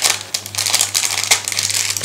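A plastic bag holding parts of an ICM 1:35 T-34-76 tank model kit crinkles close up, in quick irregular rustling bursts with no talk.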